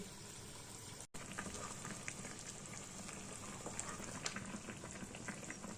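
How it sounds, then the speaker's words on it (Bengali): Fish curry broth for a Bengali puti fish jhal boils steadily in a pan, a dense, continuous bubbling and light sizzle heard close up and alone, with a brief dropout near the start. "ঝোলটা ফুটে উঠেছে"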